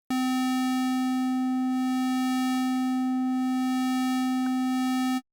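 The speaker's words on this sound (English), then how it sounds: "have a listen as I move the waveform" A sustained, buzzy synthesizer tone holding one pitch while its timbre subtly shifts, with a few faint clicks along the way.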